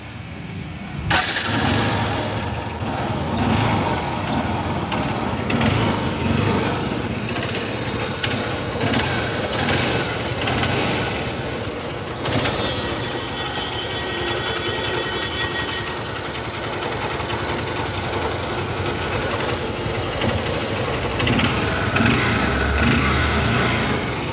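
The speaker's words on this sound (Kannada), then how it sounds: "ಗಾಡಿ ಸ್ಟಾರ್ಟ್ ಮಾಡಿ ತೋರಿಸ್ತೀನಿ ಗಾಡಿ ಕಂಡೀಷನ್ ಯಾವ ಥರ ಅದ ಅಂತ ನೀವೇ ಚೆಕ್ ಮಾಡ್ಕೊಂಡು ನೋಡಿರಿ" A Honda Shine motorcycle engine starts up and keeps running with a steady, loud mechanical drone close by that carries on unbroken for the whole stretch, with no talking.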